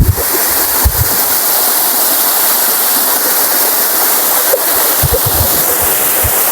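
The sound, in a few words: flood-swollen waterfall rushing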